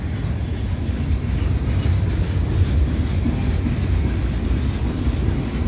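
CPKC mixed freight train rolling past in winter in Montreal, including an old gray Canadian American Railway boxcar, a steady close rumble of wheels on rails with some wind buffeting, no voices.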